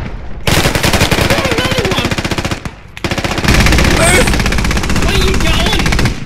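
Sustained machine gun fire in the tactical shooter game Squad, rapid loud bursts with one brief pause before the shooting resumes, while players talk excitedly over it.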